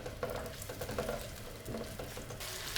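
Chopped onions sizzle and fry steadily in a pan, a dense continuous crackle with occasional stirring scrapes and no talk.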